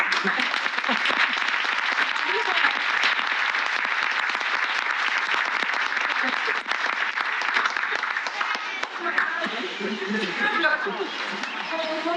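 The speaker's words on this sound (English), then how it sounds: "I just want to give a full round of applause to all the graduating residents" An audience at a hospital's medical residency graduation applauds the graduating residents, a long, steady round of clapping with some voices and cheers mixing in toward the end.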